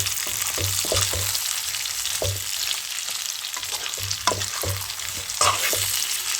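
Chicken liver with kandanakaya fries in a pan, a steady bright sizzle under repeated scraping strokes as a spoon stirs the pieces at an uneven rhythm, close and moderately loud, with no talking.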